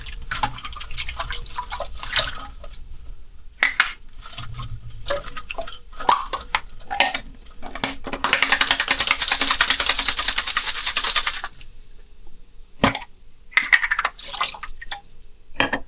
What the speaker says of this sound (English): I usually just leave the water running just a little bit so I can rinse the egg off when I'm done.